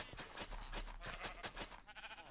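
Sheep in the Minecraft video game bleat in a quick run of short, wavering cries, fairly close and clear, with a faint background hum and no talking.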